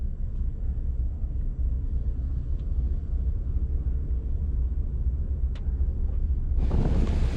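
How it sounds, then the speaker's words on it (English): Strong wind buffets the microphone at Cotton Bayou beach access in Orange Beach, Alabama, a steady low roar with possible surf underneath that surges into a louder, brighter gust near the end; no talking. "Very windy out here today."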